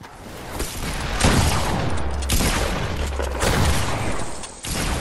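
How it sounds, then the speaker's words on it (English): Rapid gunfire in Fortnite as a player shoots at a zombie, a dense, loud burst of repeated shots that stays steady across the moment with a few heavier bangs. "I shot the zombie!"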